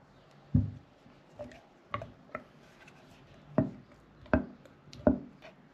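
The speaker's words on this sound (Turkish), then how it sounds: "Mayamızı karıştırdım." A spoon stirs and scrapes sourdough starter in a jar, producing a handful of sharp, irregular knocks and scrapes, close and fairly quiet against a hushed background.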